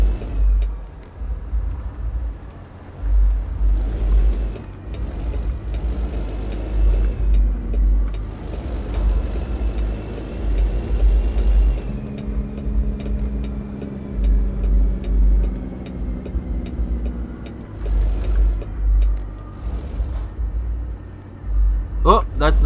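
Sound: Kenworth W900 truck engine in American Truck Simulator video game

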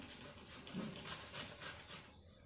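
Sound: grating potatoes for sabudana vada

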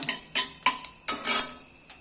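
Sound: cumin and mustard seeds frying in oil, stirred in pan

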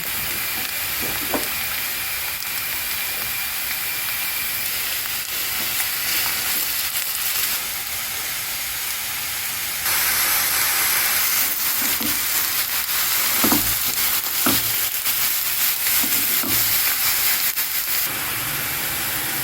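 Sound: frying mushrooms together with onions in a pan

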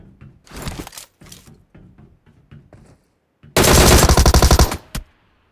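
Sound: gunfire in video game PUBG Mobile

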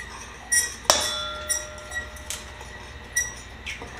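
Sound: stirring pumpkin pie filling in a bowl

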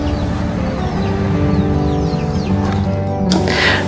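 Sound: wild chickens, mother hens with chicks in Makawao, Maui

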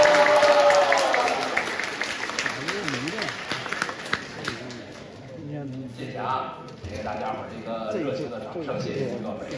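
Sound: audience applause at a crosstalk show

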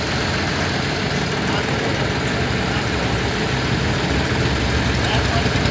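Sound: new tractor engine running

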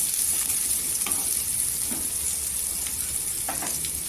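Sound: frying onions until golden

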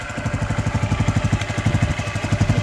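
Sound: Lifan CCR150 motorcycle engine idling after valve adjustment

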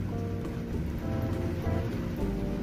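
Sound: heavy rain falling

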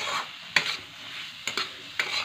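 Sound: roasted peanuts stirred and frying in a pan

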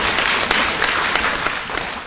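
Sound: audience applause

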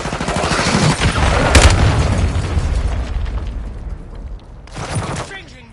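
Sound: cruise missile explosions and gunfire in a Call of Duty video game

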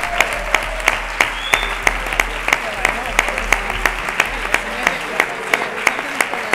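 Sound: audience applause for volunteers

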